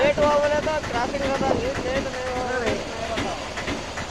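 A train rolls past, a continuous rumble and clatter with rhythmic wheel clicks and hiss, while people talk nearby over the noise.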